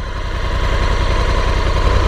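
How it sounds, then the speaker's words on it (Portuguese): Honda Africa Twin motorcycle engine running steadily, a deep, even throb with a low pulsing rumble, close and loud, with no voices. "amo o som desse motor da Africa Twin"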